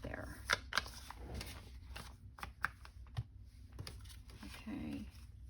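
Paper being trimmed for an altered Christmas file folder, with scattered snips and rustling handling sounds amid faint background talk and room noise.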